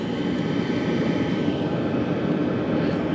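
A BougeRV diesel heater runs inside a Chevy van, giving off a steady, loud broadband whir and rush that holds constant without pauses.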